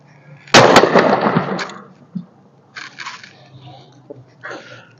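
A double barrel shotgun fires at skeet clays outdoors, one sharp loud blast with a quick second report close behind, followed by fainter clicks and handling noises.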